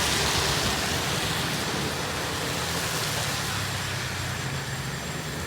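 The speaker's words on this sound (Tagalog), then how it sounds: "Malakas ang ulan." Heavy rain pouring down, a dense continuous broadband hiss at constant strength throughout, with no voices.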